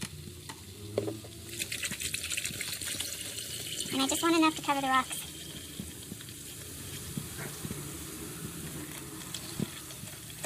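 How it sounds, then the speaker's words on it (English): Liquid from a bottle is poured over manganese-coated quartz rocks, producing a steady close fizzing and crackling sizzle with bubbly pops, while someone talks briefly over it. "can you hear it sizzling?"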